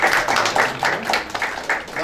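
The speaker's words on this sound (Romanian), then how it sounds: "Vă mulțumesc, le aplaud cu drag." Applause from an audience at a book launch in Bacău, a dense steady patter of many hands clapping close by, rolling on without pause for the whole moment.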